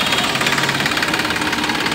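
A Massey tractor engine runs steadily up close, a loud rhythmic diesel chugging and rattling with no voices.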